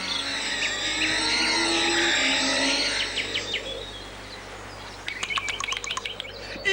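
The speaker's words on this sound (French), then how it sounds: "Va-t'en, vilain oiseau!" Close, loud bird chirping fills the first few seconds with wavering tweets, then fades before a quick series of sharp chirps returns near the end, heard alone without talk.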